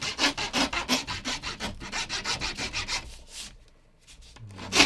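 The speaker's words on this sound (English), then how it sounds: "We're going to use a round file now" A round file works a groove into the tip of a wooden longbow, rapid rhythmic rasping strokes close up, about a dozen quick back-and-forth passes before slowing, pausing and a final scrape.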